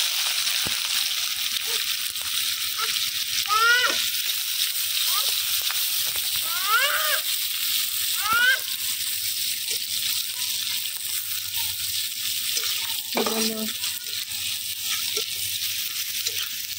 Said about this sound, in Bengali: পেঁয়াজ লাল লাল করে ভেজে তারপরে এখন গুঁড়া মশলা দেওয়া এই চিংড়ি মাছগুলো ঢেলে দিল